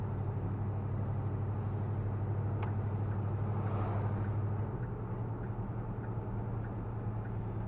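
A 1968 Chevrolet Caprice estate wagon rolls along with a steady low engine drone and road rumble, a faint ticking riding over it throughout.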